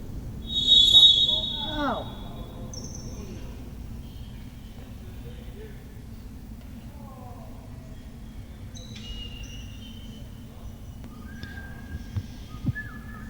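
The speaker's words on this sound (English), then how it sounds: "You'd think, Stu, they'd be able to hear that sonic boom whistle" A shrill whistle blast sounds near the start of a jai-alai match, followed by a long stretch of quiet court ambience with faint voices and a few small knocks.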